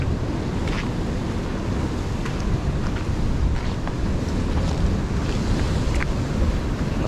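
Very strong waves churn at sea under heavy wind, a steady, loud roar of rushing water and buffeting air with occasional sharper splashes and slaps breaking through.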